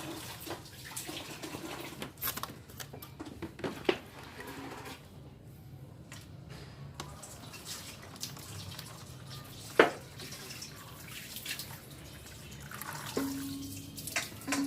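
Plain water trickles and drips onto a rice husk growing medium in a styrofoam planting setup, a faint, steady splashing pour that runs for the whole stretch with small drips and clicks.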